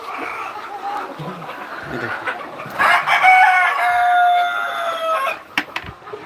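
Hens clucking in a poultry shed where they lay eggs, nearby cackles and drawn-out calls rising midway, with one bird's sustained crowing-like cry over a low background murmur.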